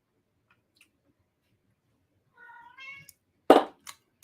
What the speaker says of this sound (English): the kitty cat's back.